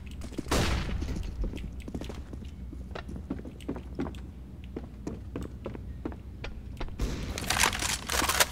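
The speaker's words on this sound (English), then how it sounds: "Flashbang." A flashbang grenade in Counter-Strike: Global Offensive on the Cache map: a sharp, bright burst early on and another near the end, separated by scattered clicks and footstep-like taps over a steady game rumble.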